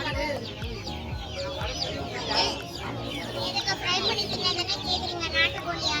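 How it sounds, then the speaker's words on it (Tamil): Country chickens clucking amid the busy bustle of an outdoor pet market, with a steady din of voices, birds and crowd noise throughout. "இது நாட்டுக்கோழி"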